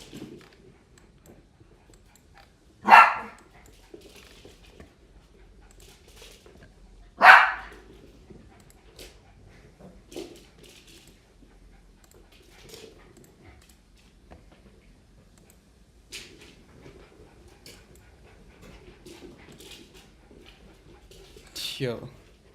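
Dogs bark in a few sharp, scattered outbursts, two loud near barks early and fainter ones later, with soft panting and light background noise between them.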